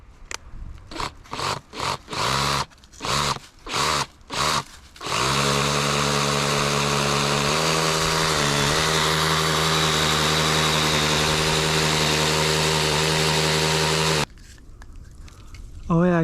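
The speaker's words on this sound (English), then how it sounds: "instead of drilling in completely flat, he says he's supposed to do it at a little bit of an angle" A power drill bores a tap hole into a maple tree at a slight angle, starting with a few short bursts, then running in one long continuous whine before stopping.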